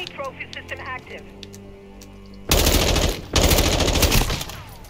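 Gunfire in the shooter game Call of Duty: Modern Warfare 2, with loud, sustained bursts of automatic fire that break briefly and then resume, coming after a stretch of quieter in-game sounds.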